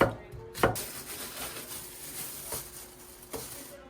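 A knife chops an onion on a cutting board at home, with a few sharp, irregular knocks of the blade standing out against quieter slicing in between.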